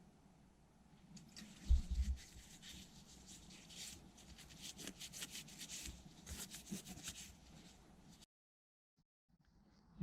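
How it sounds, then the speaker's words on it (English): A Scotch-Brite pad scrubs crud off motorcycle springs from a BMW K100 cafe racer build, giving a faint, steady rubbing and scraping with a few louder knocks before stopping. "Get some Scotch-Brite on these. Just get the crud off."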